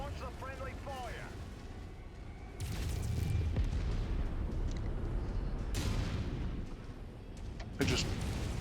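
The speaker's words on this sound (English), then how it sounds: "This location wasn't built to withstand military-grade weapon fire." Heavy mech weapons firing in MechWarrior 5 Mercenaries combat, deep booming blasts and rumbling impacts arriving in bursts at a moderate distance, with a voice speaking briefly at the start.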